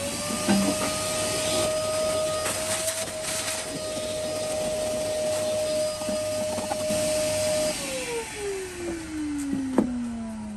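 A vacuum cleaner sucks up debris while a 3D-printed recessed handle is fitted into a drawer front. The steady close motor roar with a high whine runs throughout, then its pitch sinks as the motor winds down near the end.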